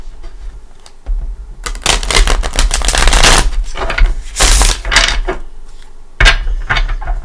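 A pre-shuffled tarot deck handled up close, giving loud bursts of riffling and card-slapping rustle with a short pause midway and no talking.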